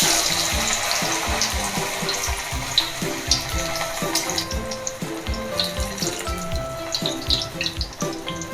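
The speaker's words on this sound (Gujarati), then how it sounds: "તળી લેશું." Veg manchurian balls deep-fry in a pan of hot oil, giving a dense, continuous bubbling hiss with soft crackles that holds steady throughout, close up, with no talking.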